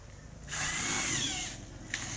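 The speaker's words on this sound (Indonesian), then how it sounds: "Jadi dilubangi pakai bor" A power drill whirs loudly for about a second, then winds down, followed by a brief second burst near the end, drilling holes for a Yamaha RX King exhaust baffle.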